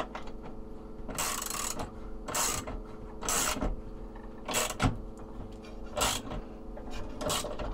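A wrench tightens a part under light pressure in a series of about six sharp ratcheting, grinding bursts, each lasting a fraction of a second and set apart by short pauses. The clicks are close and fairly loud, with no voices.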